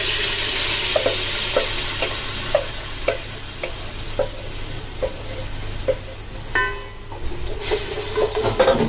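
Leftover chicken tikka marinade masala hits hot ghee in a pan, sizzling loudly up close while a spoon taps and stirs in a steady rhythm of about two strokes a second.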